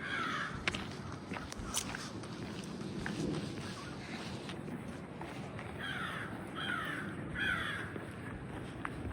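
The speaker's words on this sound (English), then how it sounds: "Got the birds" Crows caw repeatedly outdoors on the grounds of an apartment complex in Elmwood Park, New Jersey, harsh calls coming in loose bursts at moderate distance over soft footsteps and ambient noise.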